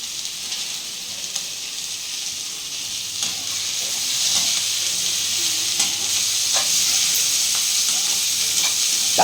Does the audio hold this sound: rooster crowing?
no